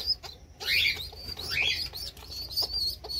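Pet pigeons in a colony loft coo softly nearby while wings flap in short bursts, mixed with faint chirps, close and clear with no talking.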